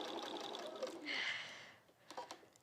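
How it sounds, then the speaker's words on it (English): A sewing machine stitching and back-stitching quilt blocks together: a soft, close motor whir running about a second, then stopping, with faint handling clicks after. "Stitch and back stitch."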